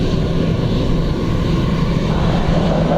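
A plane landing at Dublin Airport on runway 28 left gives a loud, steady engine roar close by, unbroken throughout with no voices.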